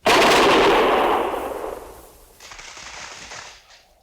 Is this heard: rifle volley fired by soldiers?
yes